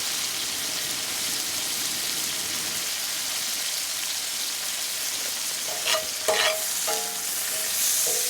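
Horsetail fern shoots are sautéed in a very hot pan, giving a steady loud sizzle and hiss throughout. A few brief clatters of stirring come near the end.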